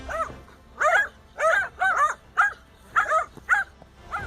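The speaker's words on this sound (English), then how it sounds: "One dog is barking at the cobra, which is making the cobra alert about the situation." A dog barks at a cobra in a burst of about eight sharp, close barks in an uneven rhythm, with short pauses between them.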